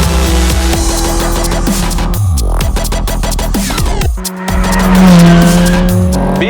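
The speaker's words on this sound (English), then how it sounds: "The engine behind you makes a beautiful noise as you're going around the racetrack." A Ferrari 430 F1 mid-engine sports car lapping a racetrack, its loud engine rising and falling through gear changes and revs, with tire squeal as it works through corners, close and continuous with no talk.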